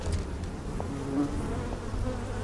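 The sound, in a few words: bees buzzing in The Peripheral TV episode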